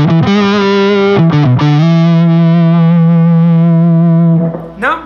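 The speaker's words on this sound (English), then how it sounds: "this is on-amp distortion, which is basically we're driving the amp pretty hard using what's on board" Electric guitar played through a Mesa Boogie 5:25 Express with the amp's own distortion, a few quick picked notes followed by a long, loud sustained note.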